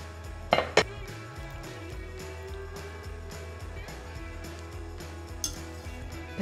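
Potatoes being added to a pot of cabbage stew with Carniolan sausage, giving a few sharp clinks and knocks early on, then a low, faint cooking bustle.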